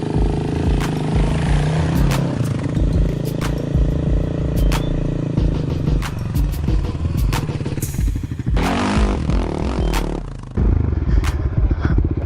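A Suzuki LTR450 quad racer ridden over rocky desert terrain, its single-cylinder engine droning loud and close with rapid throttle blips, while clattering and scraping knocks from the rocks punctuate the run throughout.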